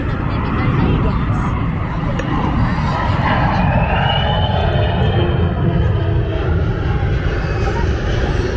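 Airplanes flying at an airshow make a loud, continuous engine roar with a thin whine sliding through it, while people talk faintly underneath.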